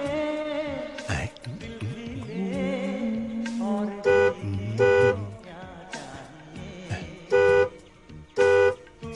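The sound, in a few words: car horn honking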